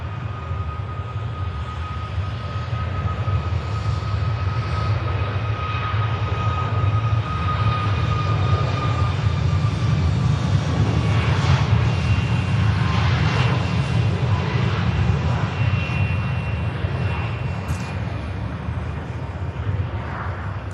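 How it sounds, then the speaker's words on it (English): A Ryanair Boeing 737 MAX 8200 departs Manchester Airport, its jet engines giving a steady, powerful low roar with a thin whine on top that swells slightly toward the middle and stays strong throughout. "Here goes the Ryanair."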